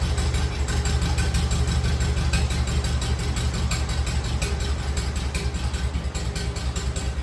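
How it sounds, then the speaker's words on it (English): The engine of a 1951 Farmall Cub tractor idles steadily up close, a loud continuous rumble with a rapid, regular knocking pulse throughout. "It even idles."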